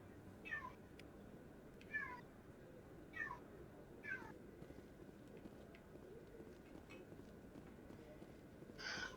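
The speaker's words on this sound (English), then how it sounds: "Shut up, cat." A cat meows repeatedly, about four short, faint calls spaced roughly a second apart, then a final meow at the end, over a quiet background.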